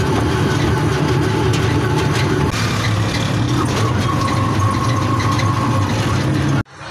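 A vehicle engine runs loud and steady with a loose clutch wire, a rough low rumble with rattling texture that continues for several seconds before cutting off abruptly near the end.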